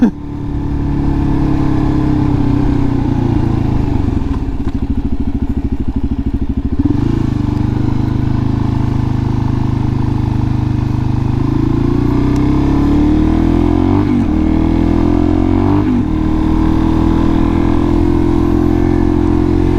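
A Suzuki DRZ400SM motorcycle being ridden, its loud single-cylinder engine droning steadily with several shifts and rises in revs, heard close with wind noise throughout.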